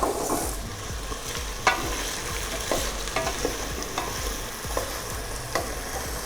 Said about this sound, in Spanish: Revolvemos y que se fría bien.